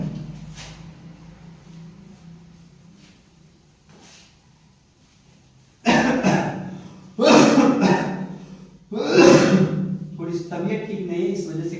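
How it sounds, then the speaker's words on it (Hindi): A person coughs harshly in three loud, close bursts that break a quiet stretch of speech, with talking continuing between and after the coughs. "खांसी आ रही है, आप लोगों को थोड़ी डिस्टर्ब होगी"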